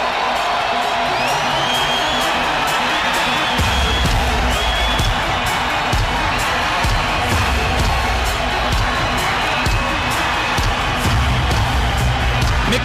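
A boxing arena crowd roars and cheers as a fighter enters, a dense, loud, sustained wall of shouting and whooping with deep rumbling swells, continuous throughout.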